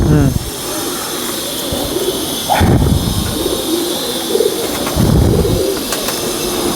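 A Sialkoti pigeon gives a few low, throaty coos close by over a constant background roar, while people talk nearby.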